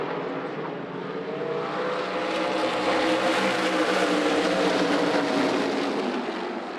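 Race cars at Kern County Raceway roar back up to speed on a restart, a dense, steady engine wash that swells and holds loud for several seconds with no voices over it.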